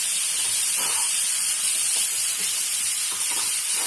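Steady hiss and sizzle of onion and tomato sautéing in a hot pan, loud and close, with faint stirring scrapes and no voices.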